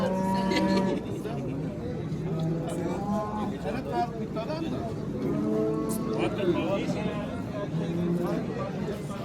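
A cow that first calved four days earlier moos several times at a busy livestock market. The drawn-out, fairly close lows rise over steady crowd chatter and people talking nearby.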